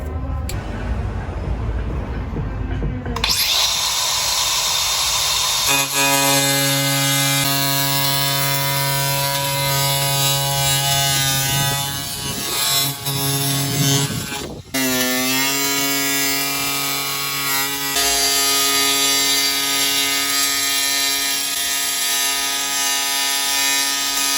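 A power tool cuts a hole on the outside for plumbing work, running loud and steady for a long stretch with a whining, shifting pitch and one brief stall before it resumes.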